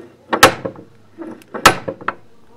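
A deep-toned metal door knocker on an old Iranian house door is struck in two main heavy knocks, each with smaller follow-up taps, close and loud against a quiet background.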